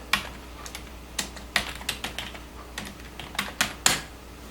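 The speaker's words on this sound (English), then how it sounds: "You have to keep typing this command to get it." Command being typed on a computer keyboard: a dozen or so close, crisp key clicks in uneven bursts, with quiet gaps between strokes and no voice.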